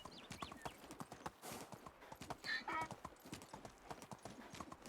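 Donkey hooves clip-clopping at a steady walking rhythm while ridden in the medieval game Medieval Dynasty, a close series of light, hollow hoof knocks continuing throughout.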